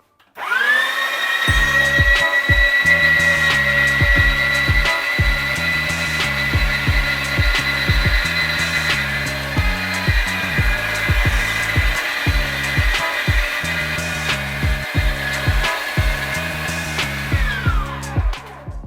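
A Liberton LMG-20TG02S meat grinder slices potatoes with a loud, steady motor whine that spins up, runs for about sixteen seconds under rhythmic chopping thuds, then winds down.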